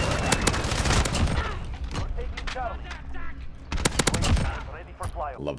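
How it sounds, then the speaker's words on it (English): Rapid bursts of MP5 submachine gun fire in Call of Duty Modern Warfare (PC beta), sharp repeated cracks in several volleys with mechanical clicks between, while a person talks over the action. "I love the feel of the MP5 in this game."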